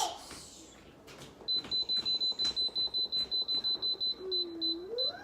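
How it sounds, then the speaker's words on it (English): An Instant Pot beeps in a rapid series of high electronic tones repeating in a steady rhythm for several seconds, with some background clatter and faint voices around it. "Instant Pot beeped."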